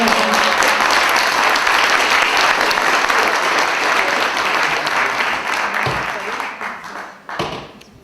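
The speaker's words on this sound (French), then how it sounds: "j'aimerais qu'on l'applaudisse vraiment" Audience at a French email-marketing conference day breaks into loud, dense applause that holds steady, then thins and fades out toward the end, with a few scattered final claps and some faint voices underneath.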